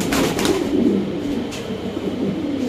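Pigeons at a pigeon market, soft low cooing and rustling close by amid a steady busy background wash, continuous for a few seconds with no talking.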